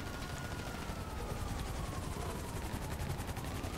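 Rapid automatic gunfire from the video game GTA V Online rattles in a steady, fast stream, faint and distant under constant game noise.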